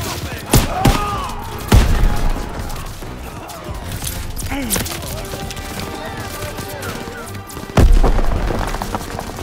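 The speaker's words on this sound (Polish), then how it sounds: "Rzucam granat!" Hand grenade and battle explosions in the World War II shooter Call of Duty: WWII: a few sharp booms spread apart, the loudest late, set against scattered gunfire and mechanical clatter.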